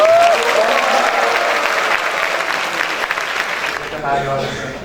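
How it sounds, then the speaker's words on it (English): A packed hall claps in sustained, dense applause that tapers slightly, with a voice talking over it at the start and end. "give them a big round of applause."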